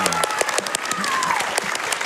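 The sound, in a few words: applause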